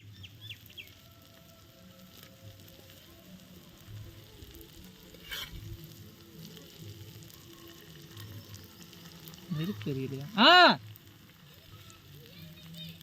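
Fish fries in ghee during an outdoor cook by a river, a low, crackling sizzle that runs throughout under scattered talk, with a brief loud tonal burst near the end.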